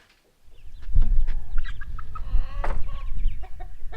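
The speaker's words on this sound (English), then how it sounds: "I have to admit I love teenage chickens." Young adolescent farm chickens cluck and chirp nearby, a busy overlapping stream of short calls and squawks with steady low background rumble.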